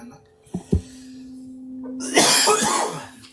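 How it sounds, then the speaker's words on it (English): A couple of short, sharp sounds give way to a rough, breathy cough that builds near the end, close up and fairly loud. "I'm gonna cough again."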